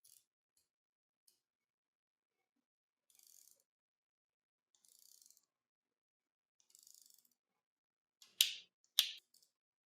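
A wrench tightens the cable fixing bolt on a microSHIFT Advent 1x bicycle rear derailleur, making faint, short ratcheting bursts in a quiet room, then two louder, sharp clicking bursts close by.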